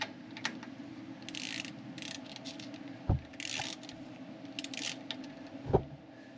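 A hand ratchet tightens bolts on the front shocks of a Monte Carlo, giving short, quiet bursts of pawl clicking with a few sharper metallic knocks in a calm garage.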